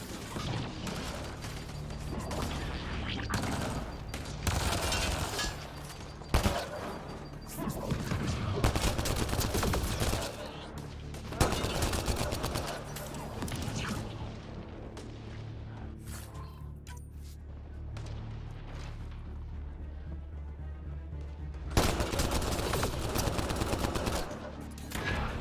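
Enemy gunfire in Mass Effect: Andromeda crackles in repeated loud volleys and clattering bursts, separated by brief lulls of mechanical rumbling.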